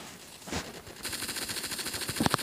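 Rapid automatic gunfire from the trench warfare video game Entrenched rattles in a quick steady burst, fairly faint and slightly distant, with a couple of sharper shots near the end.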